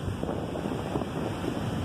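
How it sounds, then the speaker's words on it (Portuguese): Sea waves at Farol de São Tomé beach roll in as a continuous loud rush of surf, mixed with heavy wind buffeting the microphone. "Esse é o mar de Farol de São Tomé."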